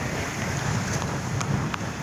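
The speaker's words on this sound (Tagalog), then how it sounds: "Nandito sa giliran yung alon." Blustery typhoon wind buffets the microphone over the rushing wash of large ocean waves, a constant roar with no voices.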